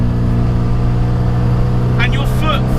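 A Classic Mini's engine holds a loud, steady full-throttle drone, with a voice briefly heard near the end over the engine.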